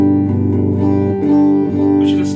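A 1963 pre-CBS Fender Telecaster electric guitar on its dark, muffled 'dead' tone setting strums a couple of chords that ring close and steady, rounder and duller than an open pickup sound.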